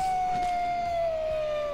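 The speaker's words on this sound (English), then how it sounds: "Why were they howling? Why were there howls?" Wolf howl in Minecraft, a single long steady tone sliding slowly downward, fairly loud against faint background noise.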